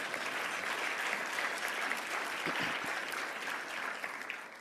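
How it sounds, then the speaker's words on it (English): An audience at an industry conference event applauds steadily, a soft, even crowd clapping that sounds fairly distant and continuous and tapers slightly toward the end. "let's give it a round of applause"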